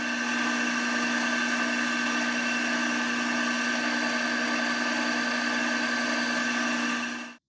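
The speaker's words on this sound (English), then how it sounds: "Put these suckers in the mill, start drilling them up." A milling machine drilling fuel rail mounts for a carb-to-EFI conversion on a twin-turbo big-block engine, a steady, loud, high-pitched motor whine with a constant tone held throughout before stopping abruptly.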